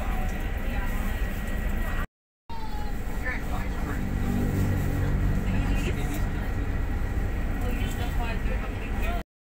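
Steady engine rumble and road noise from a bus bound for PITX, cruising on a highway in the Philippines, heard from inside the cabin, continuous apart from a brief dropout, with a voice talking over it.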